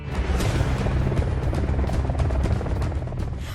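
An Indian Air Force Apache attack helicopter roars continuously with a dense, loud rotor and engine wash, a rapid low thudding running under a steady broadband rush throughout.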